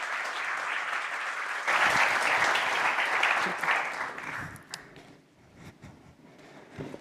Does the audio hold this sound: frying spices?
no